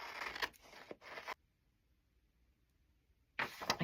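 Scissors snip and rasp through paper ephemera in close, crisp bursts. A quiet pause separates the first cuts from the last.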